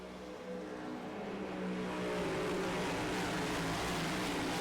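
A field of NASCAR-style race cars in iRacing rolls around Atlanta Motor Speedway behind the pace car, a dense blended engine roar that swells steadily louder over a few seconds.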